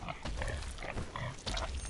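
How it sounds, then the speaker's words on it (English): Pig grunts and snorts in the Bloodborne video game, several short rough bursts close up, set in the Nightmare of Mensis area. "There's pigs here."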